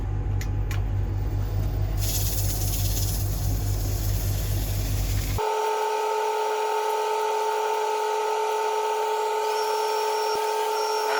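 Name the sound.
wood lathe spinning cedar blank slowly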